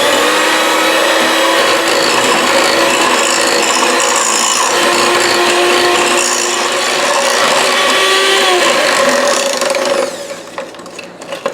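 An electric mixer runs on high creaming muffin batter made with vegetable oil, a loud steady whirring drone with a grinding, ratcheting edge that holds for about ten seconds before cutting off and leaving a few faint clatters.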